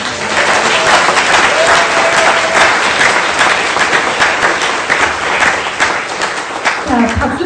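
A crowd at a book concert in Gwangjin applauds three guests, loud continuous clapping from many hands that stays thick and even throughout, with faint voices mixed in near the end.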